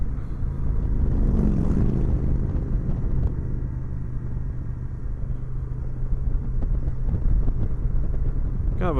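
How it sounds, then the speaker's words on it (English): Honda Shadow motorcycle cruising on a winding switchback road from Mt. Rushmore toward Crazy Horse Monument, a steady low engine drone with constant wind buffeting close to the rider, no voices. "I purchased this motorcycle recently, this Honda Shadow"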